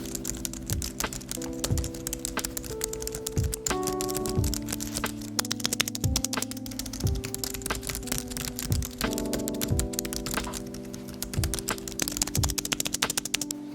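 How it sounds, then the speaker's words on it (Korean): Continuous fast typing on a Logitech MX Keys scissor-switch (pentagraph) keyboard, with dense, even, soft clicky keystrokes close to the mic and no talking. "이번에는 제가 가지고 있는 MX 키스 모델 펜타그래프 타입으로 여러분들을 들려드리도록 하겠습니다."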